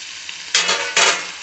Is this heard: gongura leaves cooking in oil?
yes